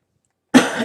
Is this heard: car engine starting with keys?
no